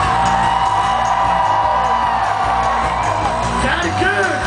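A festival crowd at an outdoor rock concert screams and whoops together, a loud, dense, sustained roar of many voices that holds steady throughout with shouts rising over it.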